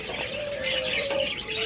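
A breeding pair of pet budgerigars chirping, a short bright call holding steady over soft twittering, close and alone.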